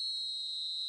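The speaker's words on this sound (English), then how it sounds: "Referee's had a look, and he's blown his whistle for half-time" A referee's whistle in a PS4 video game football match blows for half-time, one steady shrill tone held for just under a second with no talk over it.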